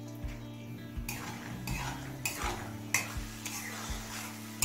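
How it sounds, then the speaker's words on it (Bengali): Peanuts frying in oil on a low flame over a soft, steady sizzle, with several distinct stirring scrapes and clinks against the metal pan at regular intervals, close and quiet, with no talking. "একদম লো ফ্লেমে বাদামটা ভেজে নিয়েছি।"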